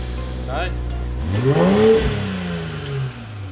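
BMW X7 with a B58 engine on stock downpipes revs up once in a rising, then falling sweep around the middle, over a steady idle, with a voice heard briefly.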